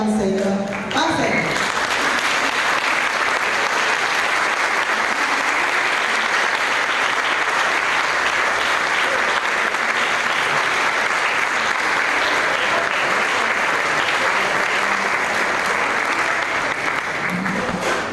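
Loud, sustained applause fills a Catholic Charismatic Renewal gathering in Managua, Nicaragua, as the crowd honors the advisers alongside the Monsignor. The dense clapping runs steadily throughout, with no pauses.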